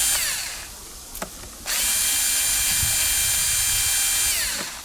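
Electric screwdriver undoing bolts on an Oleo-Mac PW 110 C pressure washer under repair for a leak: short whirring bursts, then one sustained loud high whine running for several seconds before winding down, close up and alone.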